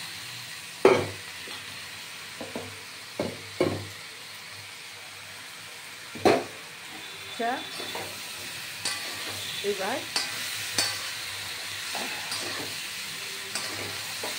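Vegetable pasta with onion, potato and spices frying in a kadai, a soft continuous sizzle broken by repeated scraping and stirring clanks at irregular intervals, close up, with a few brief spoken words.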